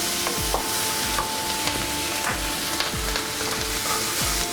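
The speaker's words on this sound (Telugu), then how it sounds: "చిన్నగా తరిగి పెట్టుకున్న వెల్లుల్లిపాయలు వేసుకుందాం. ఇవి కొంచెం ఫ్రై అయిన తర్వాత" Finely chopped garlic fries in a pan for white sauce pasta, with a steady close sizzle and regular scraping stirs about once a second.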